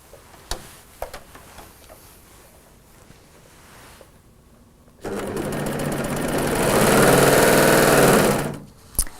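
BERNINA and bernette overlock coverstitch combo machines start up after quiet clicks, running in a loud, steady whirring hum that builds for several seconds, then stops abruptly with a final click.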